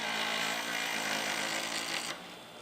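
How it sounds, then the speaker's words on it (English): Wood lathe spinning a square cholla hybrid pen blank at about 3,500 rpm, a steady dense whir with rubbing tool contact that drops away abruptly near the end, with no talking. "But I got the lathe going"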